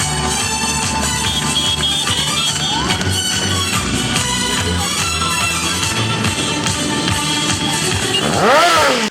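Several motorcycle and scooter engines rumble and rev together loudly and close at a youth day event in Krasnohrad, a throaty roar building throughout, with one bike accelerating sharply near the end.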